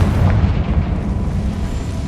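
A Confringo fire spell explodes in the Hogwarts Legacy video game, a loud, dense blast with a sustained rumbling roar across the whole moment, with no talk over it.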